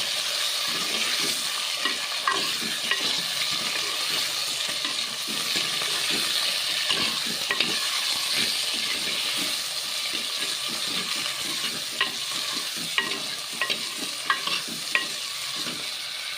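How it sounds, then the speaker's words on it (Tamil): Ripe tomatoes with drumstick pieces sautéing in a pan for a village-style kuzhambu, a steady close sizzle broken by frequent scraping stirs and clinks of a spoon against the pan throughout, with no talking. "தக்காளி பழுத்த தக்காளி போட்டு நன்கு வதக்க வேண்டும்"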